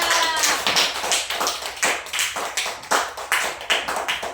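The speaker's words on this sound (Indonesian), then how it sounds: "Tepuk tangan untuk teman yang menjawab." Classroom of pupils clapping hands together in a steady, rhythmic unison beat, about two claps per second, loud and close throughout with no talking over it.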